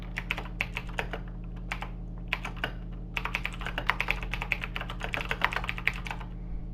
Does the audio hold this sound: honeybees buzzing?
no